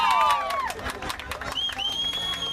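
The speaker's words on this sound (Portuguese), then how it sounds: "Aplausos para a Belita, pessoal." A crowd gathered for a tribute to an honoree applauds and cheers, with steady clapping and raised excited voices filling the space under a bright whistle-like tone, loud and close throughout.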